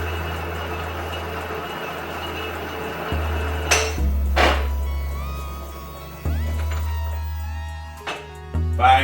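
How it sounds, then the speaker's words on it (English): A LeBlonde 17 metal lathe hums steadily under coarse-cut power feed toward the tailstock, with its motor drone shifting level a few times and sharp mechanical clunks breaking in partway through. "Feeding back towards the tailstock. I've got that in"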